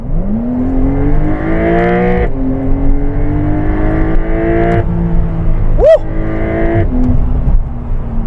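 A loud Porsche 911 (992) Carrera 4 GTS engine with PDK gearbox revs hard, climbing in pitch through several gear-like surges toward 7200 rpm, with a sharp whining rev spike near the end; close and continuous.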